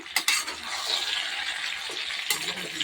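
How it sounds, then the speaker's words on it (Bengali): Mango chutney with salt and turmeric being stirred in a pan, a steady close scraping and faint sizzle running throughout with a few louder clatters of the spoon against the pan. "অল্প সামান্য দিয়ে নাড়াচাড়া করবো একটু"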